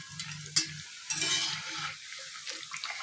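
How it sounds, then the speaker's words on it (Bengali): Rice-flour and wheat batter for poa pitha fries quietly in a pan, giving a soft crackle with a few sharper taps and scrapes of a utensil, close but faint, with no talking. "একটু লাল লাল করে ভেজে নেব।"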